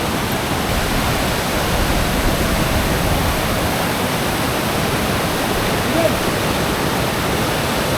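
Steady, dense roar of Kumbhe waterfall in Maharashtra, loud and close, with water crashing continuously and no pauses.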